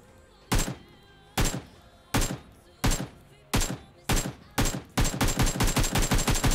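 Gunfire in the mobile game PUBG Mobile: single loud shots spaced about a second apart, then a rapid automatic burst, each crack sharp and close with a short decay.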